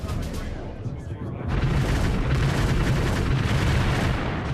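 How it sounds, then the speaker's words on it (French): Soviet artillery barrage on Berlin, with heavy guns massed along the front firing together, heard as a dense, continuous rumble of booms and blasts that grows louder partway through and then keeps pounding without pause. "La préparation d'artillerie est impressionnante."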